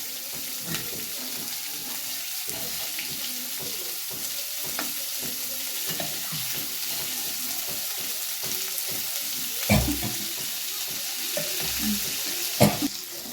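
Shallots fry in oil in a pan, a steady sizzle running throughout, with a spoon scraping and stirring in uneven strokes and a couple of louder clanks against the pan near the end.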